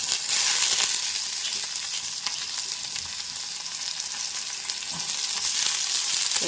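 Chopped amaranth stalks fry in hot oil, a steady dense sizzle and crackle close by with occasional stirring scrapes, no voices.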